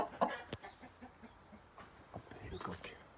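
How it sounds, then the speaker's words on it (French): A farmyard rooster calls out in reply to a distressed, clucking hen, with a few short bursts of crowing and clucking close by amid scattered noise and some talk. "L'appel du coq. Qui répond immédiatement."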